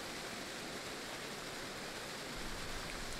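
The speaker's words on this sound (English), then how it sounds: "Waterfall is beautiful as it flows down." A waterfall flowing in Fatal Frame: Maiden of Black Water, a steady broadband rushing roar of falling water, constant and fairly soft throughout.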